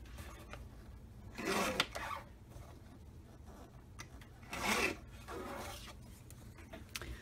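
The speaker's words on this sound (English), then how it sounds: "I'm going to trim this photo up just a little bit more" A paper photo is cut down with a paper trimmer in two quick, rasping strokes a few seconds apart, quiet and close, with no talking.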